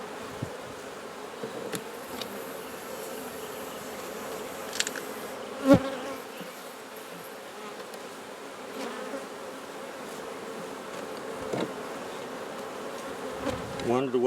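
Honeybees swarm around an open hive, a dense continuous buzzing drone close by, with individual bees zipping past and a few sharp knocks and handling sounds as frames are worked.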